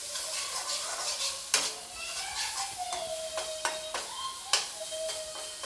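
Kasuri methi roasts with spices in a pan over a low to medium flame, giving a steady soft sizzle broken by sharp scrapes and clinks of a spatula stirring against the metal.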